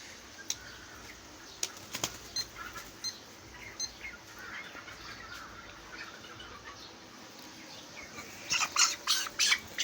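A 23-day-old broiler chicken squawks in sharp bursts and flaps its wings in a poultry shed, with loud clustered calls near the end over a quiet background.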